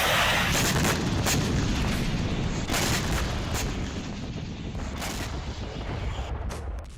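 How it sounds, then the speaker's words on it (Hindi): Heavy artillery and tank fire in the Russia-Ukraine war, a dense barrage of booming blasts and sharp gunfire cracks overlapping continuously, loud and close throughout. "तोपों से तबाही मचाई"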